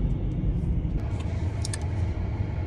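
A car driving, heard from inside the cabin as a steady low rumble of engine and road noise with a few faint small rattles.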